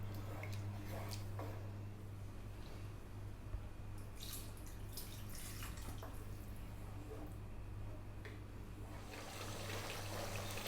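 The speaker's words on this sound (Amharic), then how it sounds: "ውሃ ትንሽ እጨምርበታለሁ ውሃ" A little water runs into a cooking pot of Ethiopian minchet abish as a steady, close trickle and splash over a low hum, with brief clicks and knocks scattered through it.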